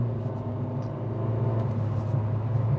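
A Honda City 1.5 i-VTEC sedan running on LPG with a CVT gearbox drives along, its engine giving a steady low rumble inside the cabin with no clear surge of acceleration.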